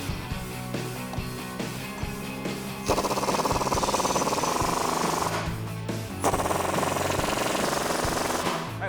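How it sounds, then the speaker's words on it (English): An air impact gun drives bull bar bracket bolts on a Ford F-150, rattling in two sustained bursts of rapid hammering, close and fairly loud, after some lighter clanking. "you're going to drive them home with either your wrench or your air gun"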